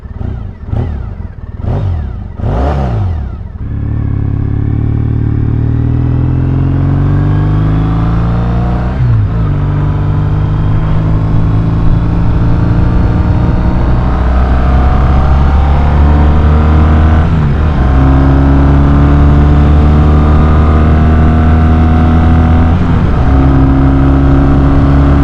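A Triumph Bonneville motorcycle with a fresh ECU tune revs a few times at idle, then pulls away and rides steadily, its twin engine droning loud and close as it climbs and shifts through gears.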